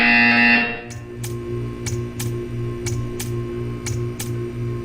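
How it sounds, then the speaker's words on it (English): In the video game Portal 2, a short tone sounds first, and then a buzzer pulses in a steady rhythm of about eight evenly spaced beats over a low mechanical hum. "You will hear a buzzer."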